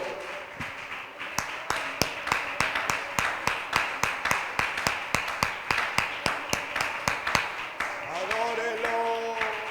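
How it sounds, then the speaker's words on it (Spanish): A church congregation claps in steady rhythm in praise of God, a long run of sharp, even claps with music rising in the background near the end. "Creo que alguno de ustedes quiere aplaudirlo a Dios."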